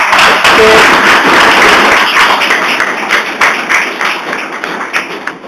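Loud, dense applause from an audience at an ACP Punjab meeting, many hands clapping together and tapering off slightly toward the end.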